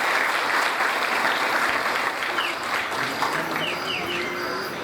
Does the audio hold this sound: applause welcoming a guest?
yes